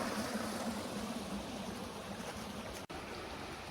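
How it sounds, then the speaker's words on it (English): Soft, continuous burble of a small creek flowing beside a hiking trail in the mountains, a quiet steady wash of water with no voices, briefly interrupted by a tiny dropout near the end. "Hiking along this little creek."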